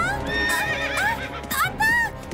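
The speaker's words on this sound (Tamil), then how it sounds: "நிறுத்து நிறுத்து, அந்த குதிரையை நிறுத்து நிறுத்து." A horse neighs in several rising and falling whinnies amid a busy animated scene, with hoof clatter and voices shouting around it at fairly close range.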